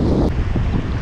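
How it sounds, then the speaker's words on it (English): Strong wind buffets the microphone on a boat out sheepshead fishing, a loud, continuous roaring rumble. "Man, it's very windy."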